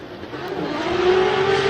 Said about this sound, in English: You can hear that exhaust note coming all the way through.